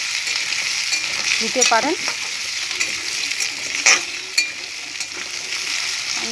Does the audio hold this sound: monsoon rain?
no